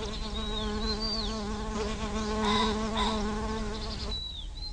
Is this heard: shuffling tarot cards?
no